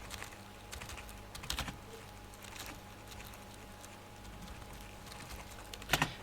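Scattered keyboard taps sound at a close distance, quiet and irregular, with a few clustered clicks and a sharper burst of keystrokes near the end, and no speech.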